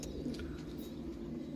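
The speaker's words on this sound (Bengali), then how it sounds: "এখানে 4 পিস পায়রা আছে" Domestic pigeons, four house birds, give a short, faint low coo over a quiet background hum, lasting barely more than a second.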